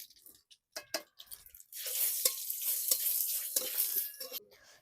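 Cumin seeds, a bay leaf and a torn dried red chilli hit hot oil for a Bengali tempering, a few soft clicks, then a loud, steady sizzle running close and unbroken for several seconds.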